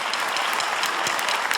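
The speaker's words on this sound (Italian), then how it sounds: "facciamo un applauso" A continuous wash of audience applause greets musicians on an Italian music show, dense and even, with no voices over it.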